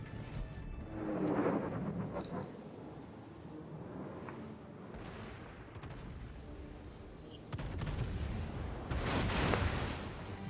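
Naval gunfire from a warship in the World of Warships video game: a couple of loud booming salvos rise over steady rumbling battle noise, with the heaviest blasts near the start and again toward the end.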